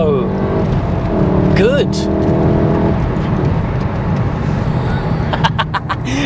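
A manual VW MK7 Golf R engine revving through heel-and-toe downshifts, with rising and falling blips over a steady cabin drone and someone speaking over it.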